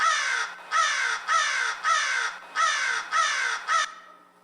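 A crow caws seven times in a regular, evenly spaced series, each call harsh and fairly close, with nothing else audible around it.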